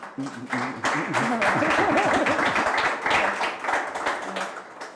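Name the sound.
audience applause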